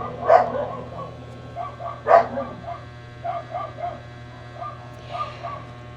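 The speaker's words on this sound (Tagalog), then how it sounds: "Ingay na aso namin." A dog barks a couple of sharp times, then several softer yips follow, over a steady low electrical hum.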